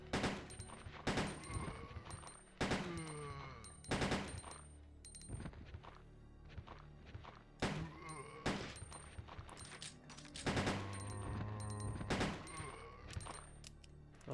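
Player gunfire in Resident Evil 2 (1998), with Leon shooting a string of loud, sharp handgun reports at irregular intervals, some with ringing tails, amid background game noise.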